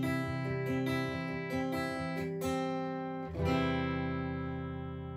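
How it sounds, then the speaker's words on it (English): A Yamaha AEX500 guitar played through its piezo pickup gives bright, slightly brittle strummed chords in a steady rhythm, close and moderately quiet, ending on a sustained ringing chord with no talk. "what it's got is, it's got a piezo in it, which sounds like this."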